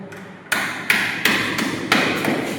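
A hammer strikes repeatedly while a CCTV camera box is being fixed in place, four sharp close blows at roughly even intervals after a quiet start, each with a short ringing tail.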